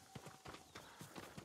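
A farm horse's hooves clip-clop at a steady walking pace in Ghost of Tsushima, a run of soft, evenly spaced knocks with a faint tone humming in the background.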